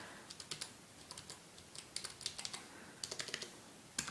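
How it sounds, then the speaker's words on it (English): Quiet, close typing on a computer keyboard in a calm indoor setting, with irregular bursts of soft key clicks separated by brief pauses and no talking. "let me go ahead and start typing that information into the computer then"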